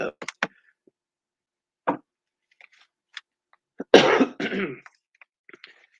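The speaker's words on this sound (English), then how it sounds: "I had to cough" One abrupt, close cough, preceded by a few small scattered clicks and knocks in an otherwise quiet room.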